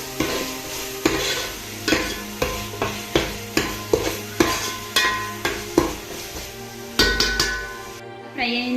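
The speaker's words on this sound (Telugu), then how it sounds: "వేసుకొని బాగా పచ్చివాసన పోయేంత వరకు బాగా ఫ్రై చేసుకోవాలి." Ginger garlic paste frying in a pan for fish curry while a spoon scrapes and stirs it in a regular beat, about one stroke per second, over a constant loud sizzle, no voices.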